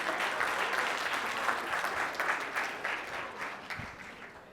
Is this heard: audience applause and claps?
yes